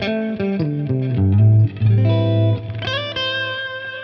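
Distorted electric guitar played through a ToneX One pedal using a Tone King Imperial MkII amp model: a run of close, loud chords and single notes with reverb tails, slides and pauses, no voice.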